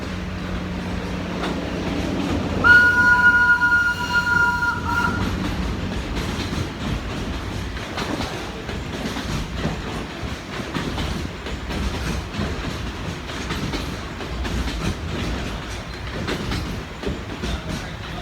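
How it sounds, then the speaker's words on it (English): A small train rolls past outdoors with a steady rumbling clatter of wheels on track lasting the whole stretch, and a brief high-pitched squeal early on before the rumble carries on evenly. "You'll see this little train go by."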